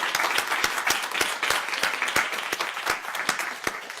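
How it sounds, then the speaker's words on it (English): A lecture-hall audience at an NIH event on transgender health claps steadily for a colleague. The hand claps are crisp and fairly close, with a few sharp individual claps standing out over the dense patter for about four seconds. "Can we give Albert a round of applause real quick, please?"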